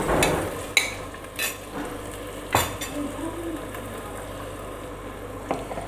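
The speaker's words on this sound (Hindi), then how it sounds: "अब इस चिकन को भी इसके अंदर अच्छी तरह से फ्राई करेंगे।" Boneless chicken cubes fry in a pot with a steady sizzle, while a spoon stirs them and clanks against the metal in several sharp knocks.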